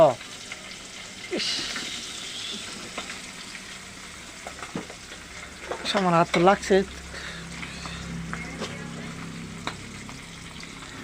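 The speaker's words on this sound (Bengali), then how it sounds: "এই মাছ ভাজা হইতেছে।" Fish fries in hot oil with a steady soft sizzle and crackle running throughout, while people talk nearby and brief clattering stirs break in midway.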